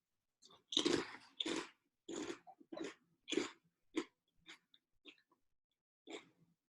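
Kettle chips crunch in someone's mouth in a string of close, crisp bites and chews, loud bursts separated by brief silences, fading toward the end.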